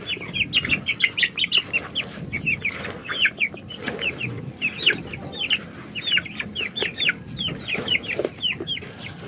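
A group of chickens clucks busily and continuously at close range, overlapping calls in quick bursts, with some rustling and movement underneath before being fed a banana trunk feed mix.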